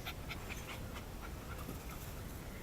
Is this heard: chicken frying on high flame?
no